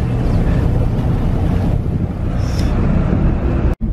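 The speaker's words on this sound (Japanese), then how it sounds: "あっちはフェリーですね" Ferry passing on the open sea near Shinojima in Aichi, heard as a steady low rumble of engine and water under constant wind buffeting on the microphone, with no talk.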